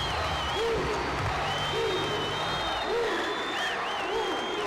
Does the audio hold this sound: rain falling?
no